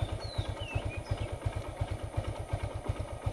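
A Modenas GT128 motorcycle engine idles nearby with a steady, rapid low thumping pulse and light mechanical clatter, running evenly throughout without speech over it.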